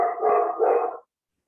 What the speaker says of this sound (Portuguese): Quem está com o cachorro aí latindo